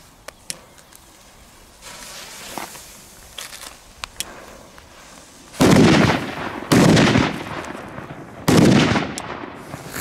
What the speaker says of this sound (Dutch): Gekke knallers.